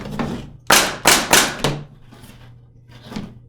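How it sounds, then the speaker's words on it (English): A paintball marker fitted with a Redline SFR regulator fires a quick run of sharp, loud pops close by, and two fainter shots follow after a short pause. "take a couple shots with your gun"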